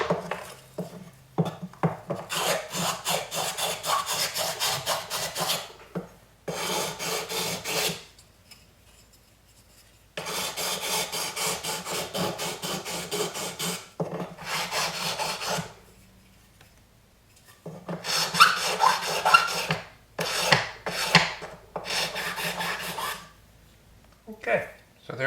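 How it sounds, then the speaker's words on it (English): A copper matchbox sleeve is sanded smooth in long bursts of close, steady abrasive rubbing, separated by quiet gaps and ending in shorter choppy strokes. "And sanding it so it's nice and smooth."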